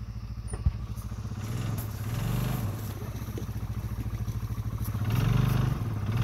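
Arctic Cat 500 ATV engine running steadily nearby, a pulsing low chug that swells twice as the throttle opens slightly, with a sharp knock early on.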